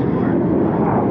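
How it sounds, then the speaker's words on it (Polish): A vintage aerobatic airplane with a piston engine flies at the Reno air show, its loud, rough engine roar filling the air up close, with voices in the background. "a teraz latający akrobaci na starych samolotach, jeszcze z normalnymi silnikami"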